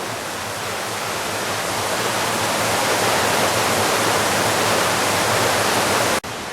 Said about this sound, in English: we can hear the water down below